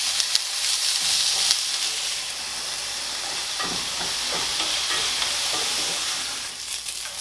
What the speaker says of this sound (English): we're just going to stir fry these until they're soft